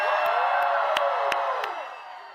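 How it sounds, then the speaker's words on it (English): Rally crowd in Las Vegas cheering and whooping in a loud, dense roar, with a few sharp shouts standing out before the noise eases off near the end. "Can we please applaud Mana?"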